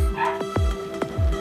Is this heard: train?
no